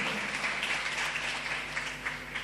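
A congregation at a church service applauds, a dense continuous patter of clapping that stays fairly faint and even throughout, with no speech.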